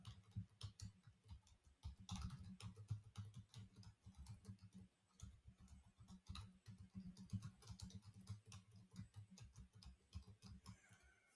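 Quiet, rapid keystrokes on a computer keyboard while a description is typed into a health agency dashboard, a steady run of light clicks with brief pauses, no talking.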